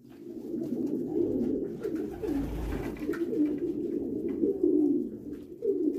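Meat pigeons cooing at a pigeon farm in Egypt, a continuous chorus of low, rolling coos from several birds nearby, steady throughout with no talk.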